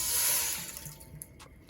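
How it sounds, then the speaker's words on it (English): Water pours into a thick Dutch pot while Jamaican grater cake is being made. A splashing, hissy stream is strongest at first, then thins into scattered drips and trickles. "So I'm going to go ahead first and add some water."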